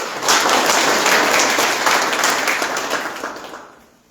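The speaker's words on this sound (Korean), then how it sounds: "자, 박수." Sustained, dense applause from a crowd at the opening of a provincial council candidate's campaign office in Hamyang, loud and steady for about four seconds before fading out at the end.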